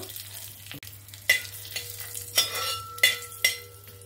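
Torn bay leaves, three cardamom pods and a little cinnamon fry in ghee, a light close sizzle punctuated by several sharp stirring scrapes and clinks against the pan, with no one talking.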